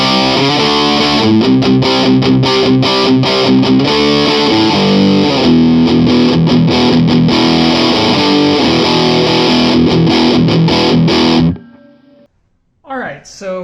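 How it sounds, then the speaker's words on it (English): Electric guitar with a stock HFS humbucker on a brass baseplate, played through heavy distortion: a loud, dense run of driven chords and notes that cuts off abruptly near the end, followed by a brief voice. "I'm going to throw some distortion on there."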